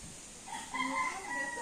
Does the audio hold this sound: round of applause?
no